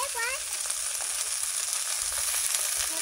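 Leafy greens hit hot oil with reddened fried onions, garlic and chilies in a curry, setting off a loud, dense, continuous sizzle close by. A short stirring scrape is heard near the start.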